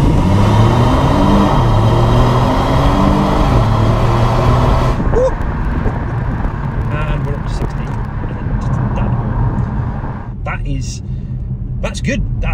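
Kia Stinger V6 twin-turbo pulling hard in sport mode, a loud rising engine drone through gear changes heard from inside the car, with the driver talking over it throughout.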